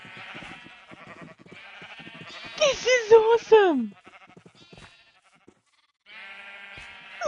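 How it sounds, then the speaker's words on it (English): A sheep in the Minecraft video game gives a few loud, wavering bleats in a quick cluster, with a person talking excitedly before and after. "Look at my field of rainbow sheep."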